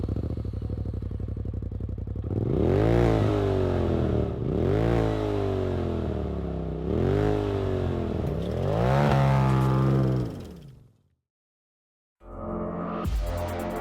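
A Polaris RZR XP Turbo with an MBRP Performance Series exhaust revs hard four times in a row, each loud climbing roar falling back between bursts. It cuts to silence, then a final engine burst follows.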